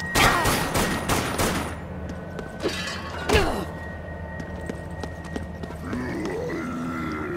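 Rapid bursts of submachine gun fire in the zombie shooter Dead Nation, a loud quick rattle at the start followed by a few isolated shots and game effects over a low background hum.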